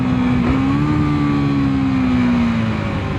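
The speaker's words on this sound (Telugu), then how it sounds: "ఇక ఇంజన్ బ్రేకింగ్ చూడండి," A KTM Duke 390 single-cylinder motorcycle engine braking hard on aggressive downshifts, a loud continuous close-up engine drone whose pitch rises slightly and then slowly falls, with no voices.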